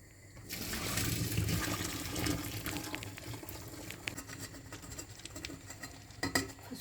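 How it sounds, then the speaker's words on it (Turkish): Water pours and splashes steadily into a sink as boiled beans are drained, a continuous rushing stream with a few clinks near the end. "Şimdi fasulyemizi süzelim."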